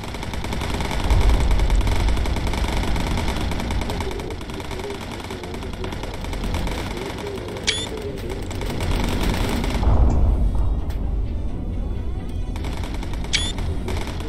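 Sustained gunfire from an enemy ship in the aerial combat game Bomber Crew, a continuous dense rattle over steady engine drone, swelling around the middle with a few sharp high pings.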